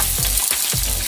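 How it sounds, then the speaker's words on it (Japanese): Mushrooms and bacon sizzle loudly up close in a pan over moderate heat, with a dense frying hiss and a few stirring pushes in quick succession. "で、炒めますね。"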